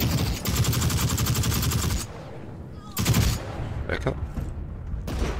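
Gunfire from the video game The Cycle Frontier, where a player is hit by a bolt-action rifle. A rapid burst of loud shots is followed by several separate sharp cracks, with a brief spoken line in between.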